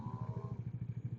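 A Yamaha NMAX version 2 scooter rides past with a steady, quick engine pulse, a low rhythmic throb heard close for a brief moment, no talking over it.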